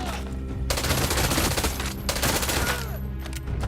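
Machine gun fire in the video game Far Cry 6, loud and sustained: rapid bursts run nearly unbroken across the clip, with brief gaps between volleys.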